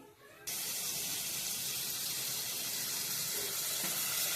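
Cooking water from a pot of boiled Maggi noodles is poured off, starting abruptly as a steady, loud rushing hiss of water that carries on evenly to the end.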